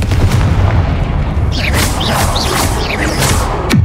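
Confringo blasting spell going off in the Hogwarts Legacy game, a dense rumbling boom over steady background noise with whooshing magical bursts and a sharp descending zap near the end.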